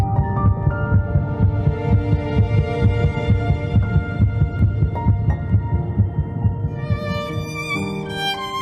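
An embryo's heartbeat at 3 weeks and 1 day, 22 days after fertilization, comes through as a steady, rapid low throbbing that pulses evenly beneath a continuous layer of sustained musical tones.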